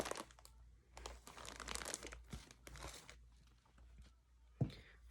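A plastic bag crinkles and rustles close by in irregular bursts, faint overall, with a sharp tap near the end.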